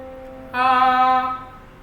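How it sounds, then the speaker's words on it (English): A single sustained piano-like note, middle C, rings out clearly for about a second, then fades, with a quieter tone beneath it. "You can see here, middle C is this note."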